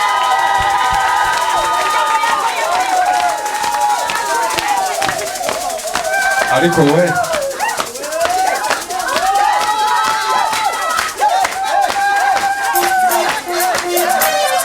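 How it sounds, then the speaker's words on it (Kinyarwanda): Church crowd applauding and cheering, dense continuous clapping and shouts under a preacher's loud amplified voice speaking throughout. "nimuyikomera amashyi."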